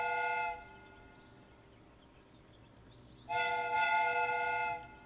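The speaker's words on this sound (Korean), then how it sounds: "The steam whistle is ready to be used." A steam train whistle in the Sherlock video game sounds as a steady, harmonic tone. The tail end of one blast fades at the start, then a second sustained blast follows after a quiet gap, loud and clear with no talking.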